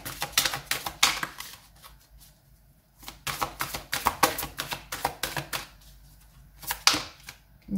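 Tarot cards are shuffled repeatedly at close range, giving a busy run of quick, crisp riffling and tapping bursts with brief pauses between them.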